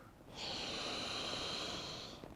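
A single long, deep inhale through the nose during a guided meditation, close and airy, lasting under two seconds against a quiet background.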